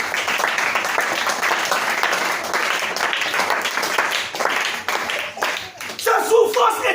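A church congregation applauding, dense sustained clapping filling most of the time and tapering near the end, with voices rising over it.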